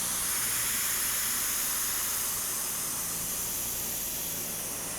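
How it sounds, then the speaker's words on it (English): Airbrush spraying patina paint in small patchy spots on a rat rod, a steady close hiss of air and paint held continuously without pause. "I'm just barely pulling back on the airbrush and just making some little patchy spots here and there"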